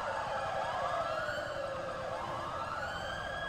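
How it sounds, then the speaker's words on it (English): Police car sirens in the video game GTA 5 wail continuously, with several overlapping sweeping tones, loud and sustained throughout. "Yeah, turn your sirens off now, boys."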